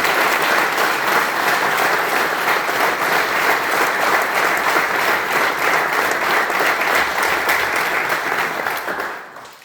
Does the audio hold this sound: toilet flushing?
no